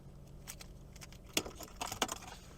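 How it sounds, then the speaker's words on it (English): A Nissan Rogue SV key fob with remote start and keys jangles in a few quick, light metallic bursts, close and quiet against a faint background. "here's our key fob with remote start"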